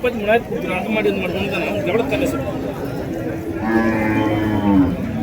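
A native cow moos loudly at close range amid the chatter of a crowd at a cattle market in Krishnagiri District, India, one long low call standing out over the background voices.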